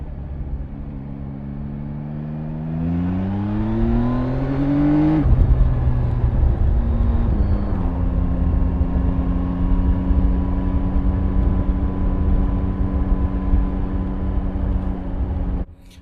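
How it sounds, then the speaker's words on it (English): A used motorcycle at high speed: a loud, steady engine drone rises in pitch through the first seconds as it accelerates, shifts around five seconds, then holds a sustained even whine before cutting off at the end. "At higher speeds, the bike just carries itself so well."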